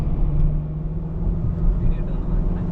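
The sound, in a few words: VW Golf GTI Mk8.5 EA888 engine driving in sport mode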